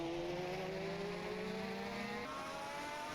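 Lamborghini race cars at the 1991 Adelaide sprint round, a high engine note holding steady then shifting pitch as a car pulls out of the hairpin, heard from a distance with a constant roar.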